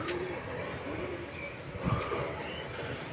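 Pigeons from a home flock coo softly in the morning, faint and somewhat distant, with a few low calls over quiet background noise.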